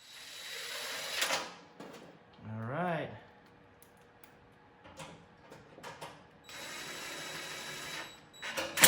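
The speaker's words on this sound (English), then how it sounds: "I'm just going to tighten everything." Screws being tightened on a 12U AxcessAbles equipment rack, heard as scattered clicks, ratcheting and metallic scraping in a quiet room, including a rising whirring sweep like a power driver and a longer buzzing stretch near the end.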